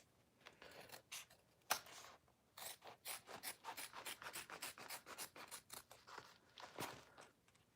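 Scissors snip and trim repeatedly while making a Teloujay, a run of close, crisp cuts in quick irregular rhythm with no talking.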